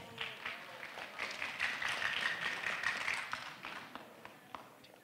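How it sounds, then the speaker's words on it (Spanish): Applause from an audience at an anniversary ceremony for a professional school, a fairly faint, distant patter of clapping that swells and then fades out. "Lo recibimos con fuertes aplausos"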